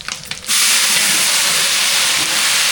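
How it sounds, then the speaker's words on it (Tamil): Cinnamon and curry leaves drop into hot oil for a chicken gravy, a few clinks and then a sudden loud, steady sizzle that keeps hissing evenly with no talk. "சிக்கன் கிரேவிக்கு என்ன நல்லா சூடாயிடுச்சு பட்டை வகையெல்லாம் சேர்த்துக்கலாம் இது கூட கருவேப்பிலை சேர்த்துக்கலாம்"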